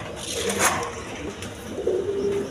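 A pair of blue shirting pigeons coo softly in a loft, low throaty calls rising and falling close by with a brief sharper note partway through.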